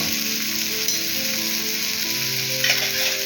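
Surmai (kingfish) slices frying in masala in a pan, a loud, dense, continuous sizzle close up with a slight flare near the end, no voices.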